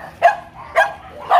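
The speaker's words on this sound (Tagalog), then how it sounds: "kasi tatahol yung aso niya" Three sharp dog barks come evenly spaced about half a second apart. They are moderately close and clear, with no talking over them.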